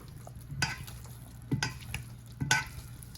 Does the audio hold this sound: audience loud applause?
no